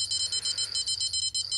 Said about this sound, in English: I'm sure I heard another one start to beep